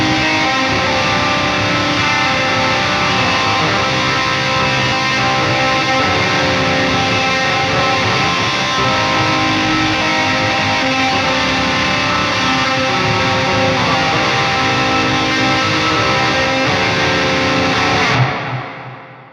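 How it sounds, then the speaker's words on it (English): Heavily distorted guitar through a Bogren Digital MLC Subzero 100 amp plugin with reverb mix and size turned way up, a dense sustained wash of chords that plays loud for about eighteen seconds before cutting off abruptly. "Let's turn this mix way up on the reverb and turn the size way up too."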